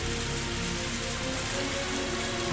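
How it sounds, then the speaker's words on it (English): Rain falling as a dense, even hiss that stays loud and unbroken throughout, with no distinct drops or voices standing out. "I started running through the rain."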